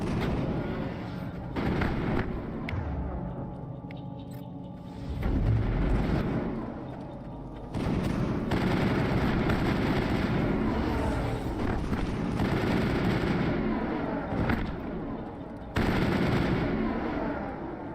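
Gunfire from an untrained weapon in the Mass Effect video game, heavy, loud, sustained bursts with short breaks, under game background noise.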